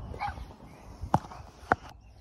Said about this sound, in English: Oh, don't start barking again.